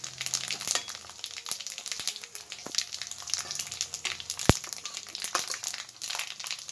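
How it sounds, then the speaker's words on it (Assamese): Panch phoron sputters in hot oil while being fried briefly for an Assamese jujube pickle: a close, moderate crackling sizzle with scattered sharp pops and one louder snap midway. "অলপ সময় ভাজি লম"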